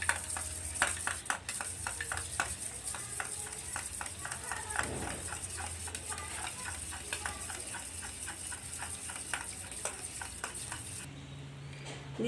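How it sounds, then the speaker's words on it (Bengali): A spoon beats egg with chopped onion and a little salt in a bowl, a rapid run of light clicking taps up close, with faint background hiss. "এবার আমি ডিমটা এর মধ্যে দিয়ে দেবো। চামচের সাহায্যে এটাকে ঘেঁটে নেব"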